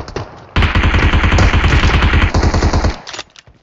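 Loud close automatic gunfire in PUBG Mobile, a sustained rapid burst of evenly spaced shots lasting over two seconds, followed by a few trailing single shots.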